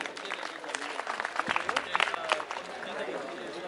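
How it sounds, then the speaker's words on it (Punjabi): An audience at a live religious jagran in a Punjab village claps in a burst of scattered, uneven applause, with voices mixed in around it. "ਉਹਨਾਂ ਵਾਸਤੇ ਤਾੜੀਆਂ ਜ਼ਰੂਰ ਹੋਣੀਆਂ ਚਾਹੀਦੀਆਂ।"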